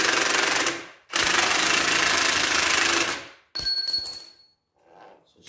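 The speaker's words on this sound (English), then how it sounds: "then I'll start with the small impact gun" Small impact gun on a Polaris RZR 1000 XP, running in two loud sustained bursts to start a bolt, followed by a few brief metallic clinks and a faint rattle.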